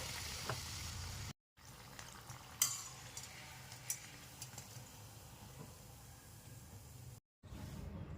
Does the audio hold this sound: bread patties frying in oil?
yes